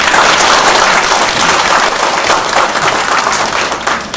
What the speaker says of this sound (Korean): 우리 성가대 그건 너무 했었는데 한번 더 힘써달라는 박수 한번 해주세요